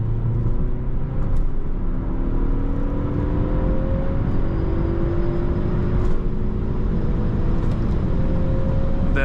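A 2014 Ford Focus ST estate with a 250 hp engine accelerates hard in third gear, its engine note rising steadily under loud road and wind roar heard from inside the cabin.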